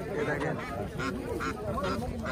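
Ducks and chickens at a riverside village market in Dohar, Dhaka, give repeated honking quacks and squawks close by, mixed with steady crowd chatter and people talking.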